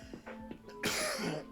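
A person coughs and clears their throat in a short, rough burst, fairly faint and close, ending in a harsher, louder cough.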